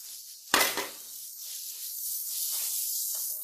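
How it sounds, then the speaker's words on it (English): A tablespoon of butter dropped into a hot pan gives a sudden loud hiss that fades within a fraction of a second into a quieter, steady sizzle that carries on to the end. "here in the same pan I'm going to put a tablespoon of butter and let it melt completely"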